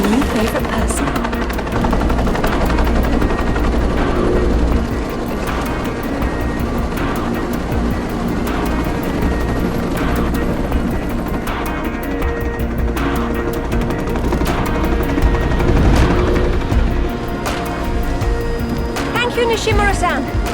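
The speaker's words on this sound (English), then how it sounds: "a chopper outside waiting for you" A helicopter waits outside in a Tomb Raider: Legend cutscene, its loud continuous rotor and engine roar running throughout under people talking, with occasional clanking effects.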